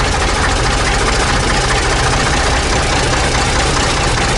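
An old diesel engine, started again after sitting abandoned for 40 years, runs steadily with a rough, loud knocking idle that fills the whole clip.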